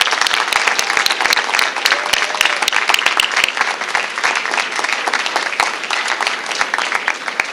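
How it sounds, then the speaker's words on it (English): Applause at a school Veteran's Day ceremony honoring staff veterans: a sustained, loud round of clapping from an indoor crowd, dense and steady throughout. "So can we give another round of applause to the Robinson staff veterans?"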